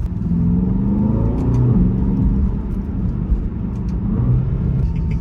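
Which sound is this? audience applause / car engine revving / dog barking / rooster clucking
car engine revving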